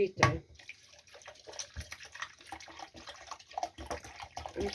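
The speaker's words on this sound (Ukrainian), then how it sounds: "І додаю сюди пива." Light beer being poured into a sauce in a home kitchen, a soft gurgling and splashing pour close by with a few bottle clinks, under occasional quiet speech.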